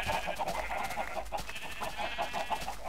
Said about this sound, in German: Ja, das sind schon noch so 2, 3 Hühnchen, hä?